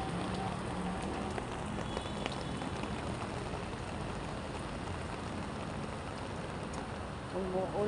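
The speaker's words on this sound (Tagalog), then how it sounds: "Umuulan na naman sa Metro Manila." Steady rain falls across Metro Manila, a dense, even patter on hard surfaces that holds the same moderate loudness from start to finish with no clear pauses.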